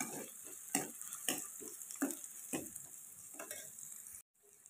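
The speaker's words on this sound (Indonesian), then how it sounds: "Nanti di gongso terus ya pemirsa ben ora gosong" Ingredients being stir-fried in a pan for a home-cooked iftar meal until browned: a steady close sizzle broken by about eight rhythmic spatula scrapes, then an abrupt cutoff.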